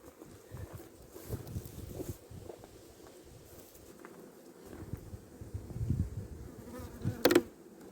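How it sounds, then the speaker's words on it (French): Bees buzz close by during a lavender harvest, a steady insect drone with louder passes and rustling near the end. "C'est vraiment 4 abeilles"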